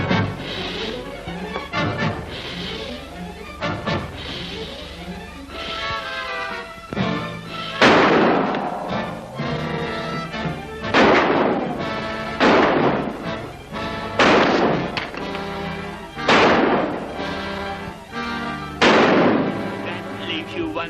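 Gunshots in a film fight, a series of loud, sharp bangs at irregular intervals, each with a short echoing tail, close and prominent throughout.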